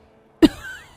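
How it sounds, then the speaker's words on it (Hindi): An old woman lying on a cot gives a single sharp cough, followed by a brief raspy trailing breath, close and clear against a quiet background. "खाट पर पड़ी बुढ़िया सुखिया खांसती हुई कहती है"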